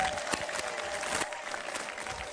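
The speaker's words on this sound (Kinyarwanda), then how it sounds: "mukomere Imana amashyi" A church audience at a choir concert claps, producing a short run of fairly faint, dense applause with scattered distinct claps.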